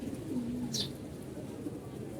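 Racing and homing pigeons kept for flying give a soft, low coo, with faint bird calls and background noise around it and no clear talk.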